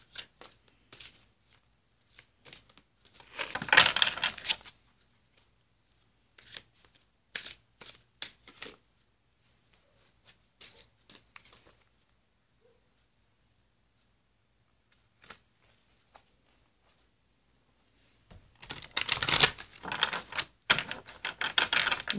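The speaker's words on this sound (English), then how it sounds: "going to cut the Divine Circus Oracle deck for you and pull your card for you now" A Divine Circus Oracle card deck is cut and shuffled in two quick bursts of riffling card clatter, one early and one at the end, separated by scattered light taps and quiet.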